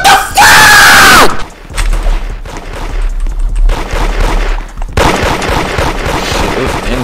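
Many players in a video game fire at once, a chaotic spread of overlapping shots and bursts, loud and close, with a sharp shrill blast at the start and shouting mixed in.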